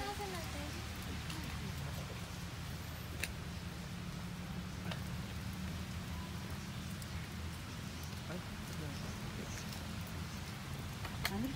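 Steady rain patters throughout at an outdoor restaurant hut in Tagaytay City, Philippines, a constant wash of drops with occasional sharper ticks, and voices murmur faintly underneath.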